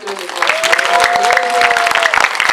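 Studio audience applauds actor Zo In Sung at a talk show, a steady wash of clapping with crowd noise while a voice speaks over it and music tones run underneath.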